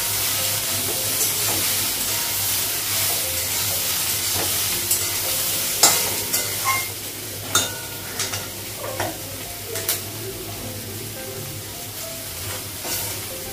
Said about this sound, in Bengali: আলুটা সবটা ভাজা হয়ে গেছে